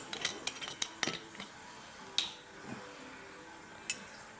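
A metal teaspoon clinks against glass and crockery while vodka is measured out for a tincture syrup, giving a run of sharp, close taps and ticks, several in a quick cluster early on, then a few isolated clinks.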